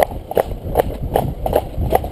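A green, inexperienced horse's hooves clip-clop in a steady walking rhythm, a series of close, distinct hoof strikes with faint background noise.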